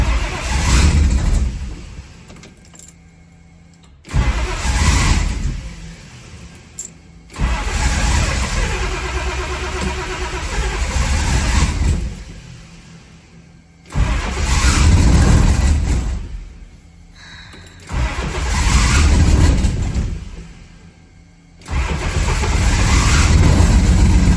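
A 1963 Plymouth Valiant's EFI turbocharged slant six cranks and fires, running loud and rough in several bursts separated by brief silent gaps, with a heavy low rumble and revving between pauses.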